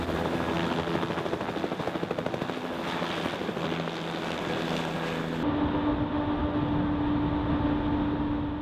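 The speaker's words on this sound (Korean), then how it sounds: "헬기가 이륙을 시도합니다." A helicopter takes off in the Arctic near sea fog: a loud, steady roar of engine and rotor with a pulsing blade beat and wind buffeting the microphone, continuous throughout with no voices.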